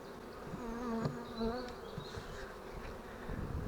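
Honey bees from a swarm on a swarm trap buzz continuously up close, a dense droning hum with individual insects swelling and fading as they pass near.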